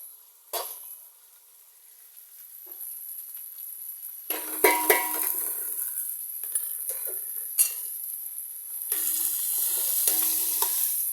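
Gongura leaves cooking in oil with tomatoes, mint and masala, a steady sizzle and bubbling in a pan with occasional clinks and scrapes of a stirring spoon, close and continuous with no talking.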